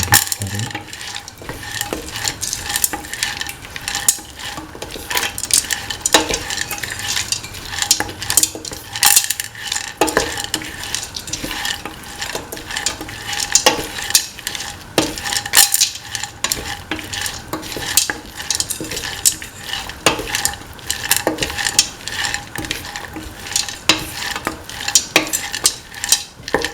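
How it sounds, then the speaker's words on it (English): Green peas being stirred into a tomato and snake gourd stew in a pan, with repeated scraping and clinking of a utensil against metal over a soft sizzle, close up and continuous. "Mix in the green peas thoroughly."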